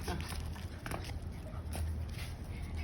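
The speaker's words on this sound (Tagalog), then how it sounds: "Shadow! Shadow and Bison, naglalaro sila." Two dogs playing make faint scuffling, panting and soft whimpers close by, mixed with shuffling movement, while people talk over them.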